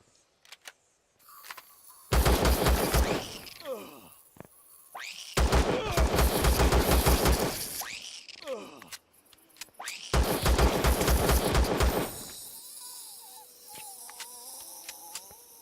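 Three long bursts of rapid game gunfire from a Tier 2 pistol in Empyrion, each lasting about two seconds and separated by short gaps, loud and close with no talking.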